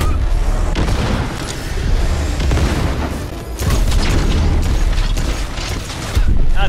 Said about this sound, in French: Double grenade.